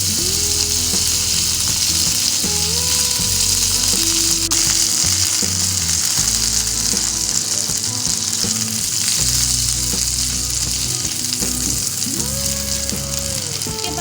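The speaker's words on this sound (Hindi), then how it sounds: "यहाँ पे हमने पैन लिया, उसमें थोड़ा सा बटर डालेंगे" Burger buns warm in melted butter in a frying pan for a chicken zinger burger, giving a steady, close, loud sizzle that carries on without a break, with faint clinks of the pan.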